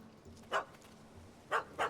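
A dog in The Witcher 3: Hearts of Stone gives three short, sharp barks, one alone and then a quick pair, heard fairly close over a low steady game ambience.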